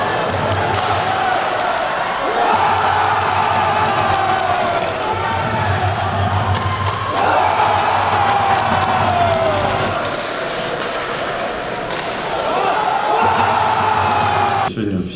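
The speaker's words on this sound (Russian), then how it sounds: "Тот самый случай, когда болельщиков мало, но их слышно." Hockey fans cheering in an arena, a small but loud crowd chanting and shouting continuously in rising and falling waves, with a low rhythmic drumming under it.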